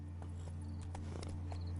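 A horse's hooves in The Witcher 3 clip-clop softly in a short uneven patter, faint under a low steady hum, with no talking.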